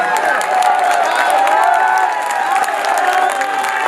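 Mushaira audience applauding and cheering at a poetry recital, a dense, steady wash of clapping with scattered shouts and voices mixed in, loud and close throughout.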